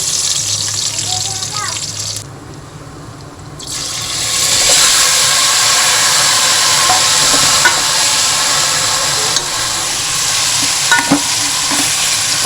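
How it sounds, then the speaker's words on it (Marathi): Marinated village chicken sizzles in hot oil in a cooking pot, a steady broadband crackle and hiss running close and loud through most of the stretch, with a brief quieter dip early on. "तर चिकन मस्तपैकी फोडणीला दिलं"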